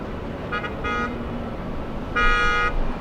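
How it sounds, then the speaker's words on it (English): Car horns honking on a street below near Los Angeles airport, two separated blasts, the second longer and louder, rising over a constant hum of city traffic. "Honks of celebration coming from down below that, or it might be honks of frustration."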